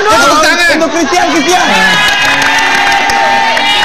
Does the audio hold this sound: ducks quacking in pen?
no